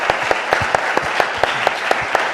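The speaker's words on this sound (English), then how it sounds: "Let's just have a second round of applause." An audience claps steadily through a second round of applause at an evening event, dense and even, with sharp individual claps standing out close by.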